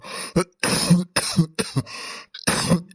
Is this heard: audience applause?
no